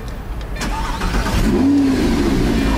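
A car engine starting up and settling into a running rumble, loud and close, with some voices in the background.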